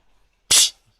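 A hedgehog gives one sharp, close sneeze, a sudden hissy burst lasting a fraction of a second amid near silence.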